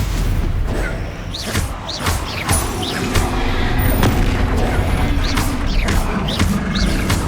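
Bombarda blasts and other spell impacts boom and crackle through dense Hogwarts Legacy combat, with repeated loud hits layered over a constant rumbling mix and no pauses.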